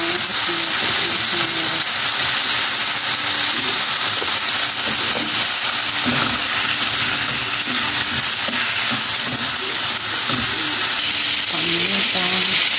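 Chicken neck adobo sautéing in a covered pan, a continuous even sizzle and frying hiss with faint stirring clatter throughout.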